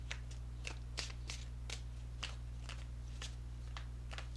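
Tarot cards being shuffled by hand, a steady run of soft crisp riffles and flicks over a constant low hum, close and fairly quiet.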